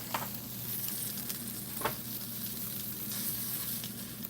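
Liquid set beside molten bismuth during a first bismuth casting boils and sizzles in a steady, dense hiss that carries on throughout, with a few faint sharper crackles.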